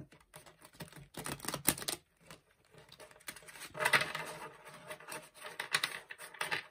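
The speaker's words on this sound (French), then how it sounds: "Allez, je mélange les cartes." Tarot cards of the Corbeau deck being shuffled by hand, a run of quick papery riffles and soft patters in bursts with short pauses between, close and moderately loud, with no talk.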